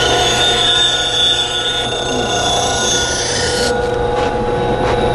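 A lathe turning tool hogs stock from a triangular wooden bowl, giving a steady, loud rasping, scraping roar that carries on without a break, its texture shifting slightly as the cut changes.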